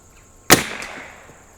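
A single sharp report from an Anschutz 54 match rifle firing RWS match ammunition at an outdoor target, fairly close, with a brief decaying tail and no voices.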